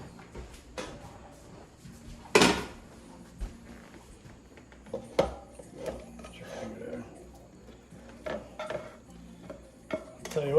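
Ground venison is dropped into a chili pot at a deer camp, with scattered clanks of utensils against cookware and soft stirring and scraping, a few sharp metallic hits standing out while someone talks.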